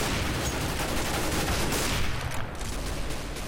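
A heavy machine gun in Counter-Strike: Global Offensive Arms Race, dense rapid bursts of gunfire rattling continuously at moderate volume with a brief dip near the end.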